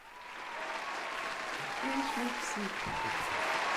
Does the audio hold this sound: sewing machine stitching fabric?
no